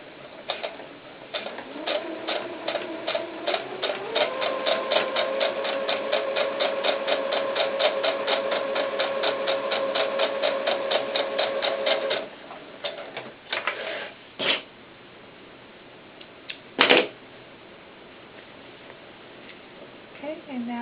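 A sewing machine stitches a seam down the middle of a doll baseball cap, a fast rhythmic ticking over a steady motor hum for about ten seconds, followed by a few scattered clicks.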